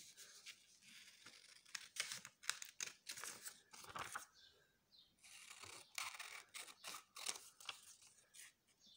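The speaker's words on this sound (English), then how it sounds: "Carrying on with the cutting, you need to cut out each of your cards." Scissors cut out paper game cards in a quiet room, giving close, faint snips and paper rustles in a steady uneven series of short crisp strokes.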